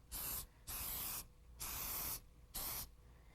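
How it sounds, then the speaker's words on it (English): An olive oil spray can hisses onto food laid out on a cookie sheet in four steady bursts, close and crisp, separated by short pauses, with no talking. "Then I take an olive oil spray,"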